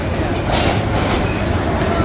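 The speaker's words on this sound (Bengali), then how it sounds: "ট্রেন ঢাকা ছেড়ে যাচ্ছে শ্রীমঙ্গলের উদ্দেশ্যে" A passenger train departing Dhaka for Sreemangal rumbles steadily from inside a carriage, with rhythmic wheel clatter and a loud continuous roar, voices faintly mixed in.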